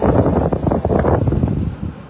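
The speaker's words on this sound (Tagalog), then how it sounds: "Grabe. Sobrang lakas ng hangin ngayon." Strong wind at the height of Typhoon Uwan buffets the microphone in loud, continuous roaring gusts with rapid fluctuations, and no voices are heard.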